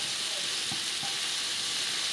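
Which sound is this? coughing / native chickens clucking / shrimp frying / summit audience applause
shrimp frying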